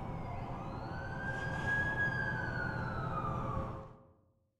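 An ambulance siren in The Amazing Spider-Man 2 video game wails as it arrives, a rising and falling tone swelling loud over a rumbling engine bed, then cutting off abruptly near the end.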